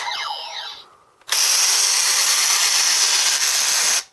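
A brief electronic chirp, a moment of quiet, then a loud sustained whirring, buzzing sound effect from a toy transformation belt that cuts off abruptly after a few seconds.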